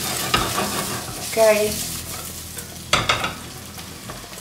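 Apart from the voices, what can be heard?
guanciale frying and sizzling in a pan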